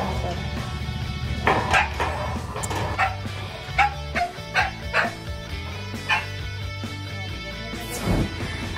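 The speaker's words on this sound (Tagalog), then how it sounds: "Ayan ang ating mga aso." Several household dogs barking and yipping near a house, a burst of sharp barks in the middle with some whimpering, close and loud, with people talking in the background.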